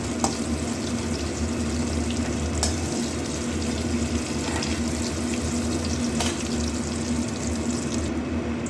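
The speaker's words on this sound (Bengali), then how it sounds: "বেগুনগুলো লাল লাল করে মোটামুটি ভাজা হয়ে গেছে, আর বেশি ভাজবো না" Brinjal (eggplant) pieces fry in a pan, giving a steady close sizzle with occasional small crackles and stirring scrapes, heard alone with no talking.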